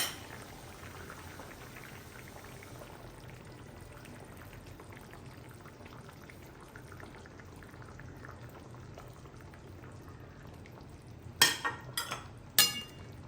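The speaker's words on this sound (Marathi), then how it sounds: "आता आपल्या काल कालवणाला छान त्याची उकळी आलेली आहे" Fish curry with pomfret bubbles at a gentle boil in a pot, a faint soft burble throughout, followed near the end by a few louder splashing pours.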